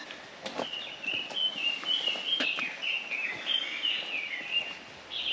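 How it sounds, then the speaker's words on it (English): Birds sing on a waterfall hiking trail in Honolulu, a continuous run of chirping, warbling calls at moderate distance, with occasional footsteps and scuffs of hikers nearby. "you hear the sound of birds?"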